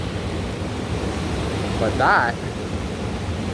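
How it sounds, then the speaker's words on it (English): A shallow stream weaving through gravel at a roadside spot in Craigellachie makes a steady, broad rushing wash close by, and someone briefly speaks over it. "the stream just sort of weaves out through the gravel there"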